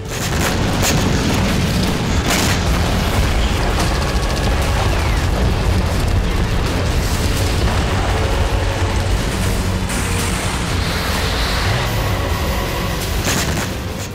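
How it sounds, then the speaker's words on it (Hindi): Multiple rocket launcher shelling pounds Bakhmut, a dense, unbroken rumble of booms and explosions rolling together without pause, loud and heavy throughout. "मल्टी रॉकेट लॉन्चर से उसी ठिकाने पर लगातार गोलाबारी की जा रही है"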